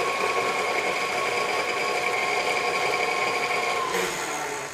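Electric hand mixer beating cake batter in a home kitchen, a steady loud whirring drone that holds nearly unbroken for several seconds, shifting pitch slightly near the end as the beaters are stopped or moved.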